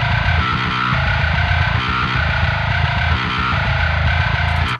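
A heavy, distorted bass tone from an Umansky Bass MIDI virtual instrument plays on its own, loud and dense, in a steady chugging rhythm that repeats about every second and a half before cutting off.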